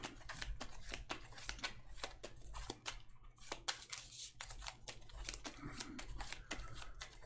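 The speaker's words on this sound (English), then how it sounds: "shuffle." A deck of Marvel Champions cards is shuffled in a rapid run of crisp riffling snaps and flutters, close and fairly quiet, with short gaps between bursts.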